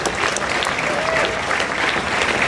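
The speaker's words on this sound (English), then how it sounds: "Give her a round of applause" An audience applauds a female powerlifter at a deadlift competition, steady dense clapping throughout with a few faint cheers mixed in.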